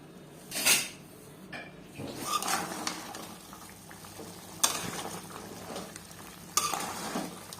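Chicken liver and chicken pieces with tempering sizzle and fry in a pan, broken by a few sharp scraping stir strokes and clinks of a utensil against the metal, with no talk.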